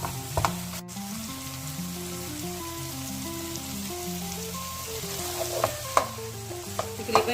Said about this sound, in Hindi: देखें भिंडी अच्छे तरीके से फ्राई हो चुकी है।